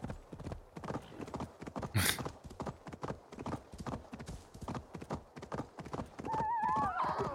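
Galloping hooves in Assassin's Creed Valhalla beat a steady, close clip-clop rhythm, broken by a short sharp burst and ending in a loud horse whinny near the end.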